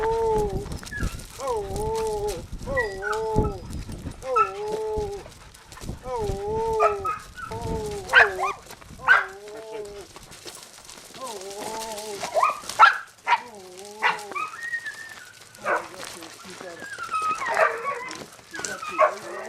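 Bird dogs whimper, yip and bark repeatedly while being handled, the whines rising and falling in a rhythmic series up close, with more scattered yelps and barks later as people talk over them.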